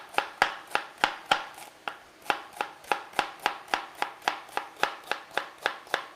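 A knife slicing celery on a cutting board in a home kitchen, a quick steady run of crisp, even chops, about three per second, close up with no talking.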